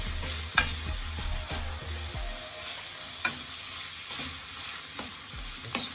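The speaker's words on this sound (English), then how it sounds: "Give that a stir now." Powdered fish seasoning and herbs get stirred through a sizzling pan, the steady frying hiss broken by occasional sharp utensil scrapes and knocks close by.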